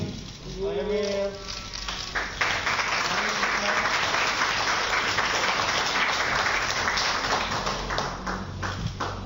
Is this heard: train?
no